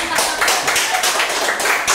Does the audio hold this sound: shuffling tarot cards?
no